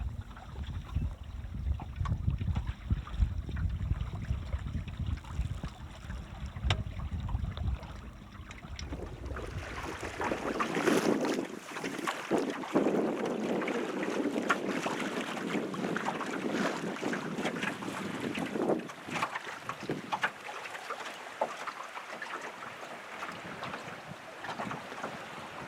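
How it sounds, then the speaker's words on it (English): A small sailboat moves through Barkley Sound with steady wind rushing over the microphone and water washing and splashing along the hull, a continuous close wash with no motor. "enjoying sailing along with just the pleasant sounds of wind, water, and boat"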